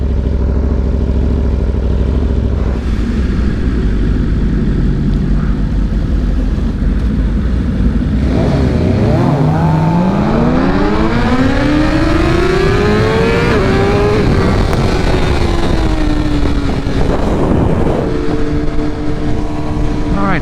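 2023 BMW S1000RR sport bikes on a roll race run, a loud continuous engine roar that climbs sharply in pitch through the gears as they accelerate, strong wind buffeting throughout, no speech.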